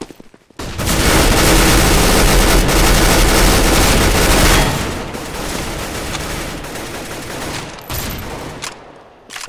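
Negev machine gun firing in Counter-Strike: Global Offensive, a loud, dense burst of sustained automatic gunfire that eases into lighter rattling shots before cutting off near the end.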